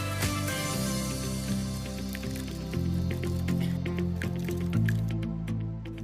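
A marinade of pepper powder, salt, curry leaves and oil mixed by hand in a bowl, with continuous wet squelching and slippery squishes up close, steady and moderately loud, no voices.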